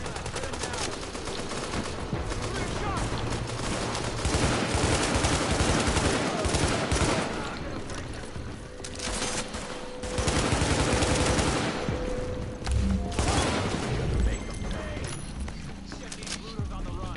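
Rapid turret gunfire in the video game Catalepsy, dense sustained bursts of shots throughout, loud and close, layered over a busy game mix with talk mixed in.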